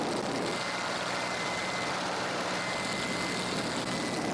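Spitfire aircraft engine droning steadily in flight at an airshow, a constant loud broadband roar with a steady tonal hum, no pauses and no voices.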